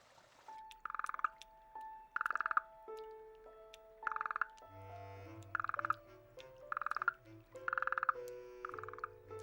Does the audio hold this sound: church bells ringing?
no